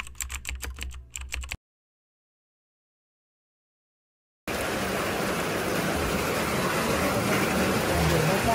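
Sudden heavy rain in Indonesia, a dense steady hiss that cuts in after a silent gap and holds loud to the end, with a brief burst of clicky tapping before the gap.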